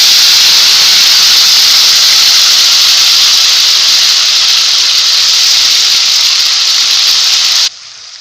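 A paste of ginger, garlic and green chilli sizzles in hot oil with a loud, steady, close hiss that runs unbroken and then cuts off abruptly near the end.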